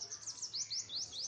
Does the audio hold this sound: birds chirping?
yes